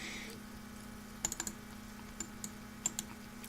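A computer mouse clicks in a quiet room: a quick cluster of three or four sharp, faint clicks, then a few more scattered single clicks.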